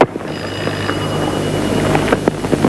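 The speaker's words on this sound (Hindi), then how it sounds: "टेलीफोन मैं सुन लेता हूँ" An old-style telephone rings in an indoor scene from a classic Pakistani film, a steady electric tone that holds loud and unbroken through the whole moment, with no voices over it.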